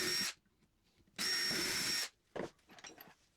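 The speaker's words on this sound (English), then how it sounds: "What I do is start my hole like this with a 3/8 bit and go about half an inch deep" A power drill with a 3/8 bit bores holes into wood, two whirring bursts, a short one then a longer one, close and loud, followed by light tapping and handling noises.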